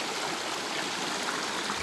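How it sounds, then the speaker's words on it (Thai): Water rushes steadily at Khlong Narai waterfall in Chanthaburi, a constant bright, hissing stream with no voices, even and close throughout. "น้ำไหลอยู่เย็นสบาย"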